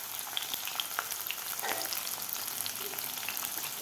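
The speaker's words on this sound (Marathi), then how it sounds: "व्यवस्थित आपल्याला हे लसूण तळून घ्यायचं आहे." Garlic frying in oil in a pan, a steady bright crackling sizzle with a few soft stirring scrapes, close and continuous with no voices.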